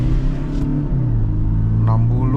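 Engine of a Toyota Fortuner 2.8 GRS pulling under acceleration, a steady low rumble with the pitch climbing as it revs, heard from inside the cabin.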